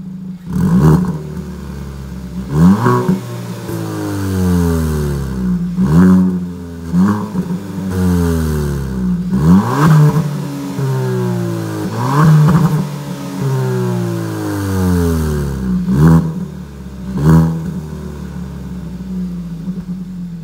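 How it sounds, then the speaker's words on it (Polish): A Kia ProCeed GT 1.6 T-GDI revs repeatedly through the exhaust in sport mode, rising and falling in pitch in rhythmic bursts, loud and close with no talking. "aktywacji trybu sport z wydechu wydobywa się taki dźwięk"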